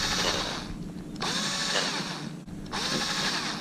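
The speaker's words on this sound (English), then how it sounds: "I place the new base there on the top of the mast, and I start drilling the holes." A cordless drill bores holes into the top of a sailboat mast, running in two long loud bursts with a short pause between, its whine unsteady as the battery runs low.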